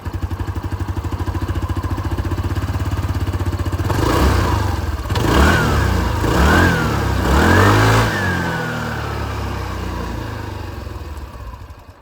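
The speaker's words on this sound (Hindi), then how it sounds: "दोनों की जो एग्जॉस्ट साउंड है वो भी मैं आप लोगों को सुना दूँ। Will start with Zoom 160।" A 2025 Hero Xoom 160 scooter idles with a steady close exhaust putter, then is revved in three or four quick throttle blips that rise and fall before settling back to idle.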